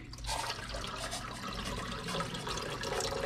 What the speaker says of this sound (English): Pour off this water.